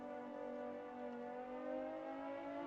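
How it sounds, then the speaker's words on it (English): A vehicle siren in the Stormworks video game wails steadily and alone at moderate level, with a continuous tonal drone holding throughout. "We will sadly have to turn on the sound and listen to that horrendous siren."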